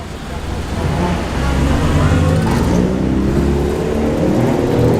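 Classic Mini cars drive out from a car show, several engines rumbling and revving loudly and continuously nearby as they pull away in a steady procession.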